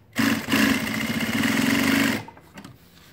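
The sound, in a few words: Juki DDL-8700H industrial sewing machine stitching paper, running fast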